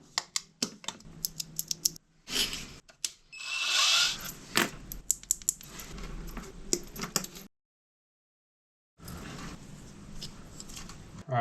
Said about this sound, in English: I need to drill out the back holes here